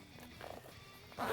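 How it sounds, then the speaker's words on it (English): A YKK zipper on a pocket of a hydration backpack is pulled, giving a soft, quiet zip that swells into a louder, rasping run near the end, close by with no talking. "This is a YKK zipper, so it's water resistant."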